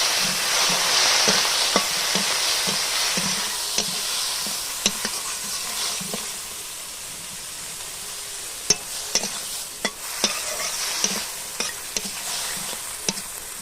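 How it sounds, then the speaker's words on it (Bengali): Shrimp frying in a pan with turmeric and salt, a continuous sizzle close by with regular sharp spatula clicks and scrapes against the pan as it is stirred. "চিংড়ি মাছে হলুদ দিচ্ছি, লবণও দিয়ে দিচ্ছি। মাছটা একটু কষিয়ে নেব।"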